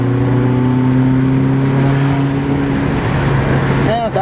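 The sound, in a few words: Ferrari California engine accelerating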